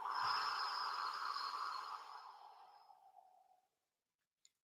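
A single long, steady exhale out through the mouth during a guided breathing exercise, a soft breathy rush that holds for a few seconds and then fades away, close and alone with no talking.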